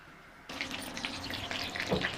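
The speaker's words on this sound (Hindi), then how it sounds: "अब मैं इनको फ्राई करने लगी हूँ।" Tandoori chicken cones drop into hot oil and start frying, a sudden steady hiss and crackle that sets in after a quiet moment and carries on evenly.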